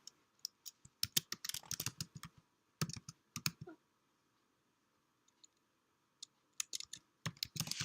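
Keys clatter on a computer keyboard in quick bursts of typing, separated by short pauses of quiet, close and fairly soft in a calm room.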